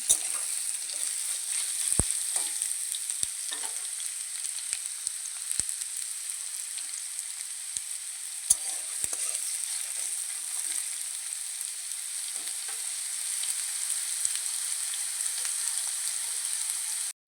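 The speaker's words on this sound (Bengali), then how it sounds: "আলুগুলো আমি একদম লাল লাল করে ভেজে নেবো একদম নরম করে ভেজে নেব" Potatoes frying in oil in a pan until red and soft, a steady close sizzle carrying on alone throughout, broken by a few sharp clicks of a utensil against the pan.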